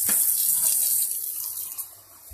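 Tap water runs steadily from a faucet in Flint, Michigan, a continuous hissing splash that stays fairly loud and close before easing slightly near the end, with no voices.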